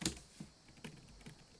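Typing on a computer keyboard, a few scattered key clicks and taps heard close and quiet with gaps between strokes, no voices.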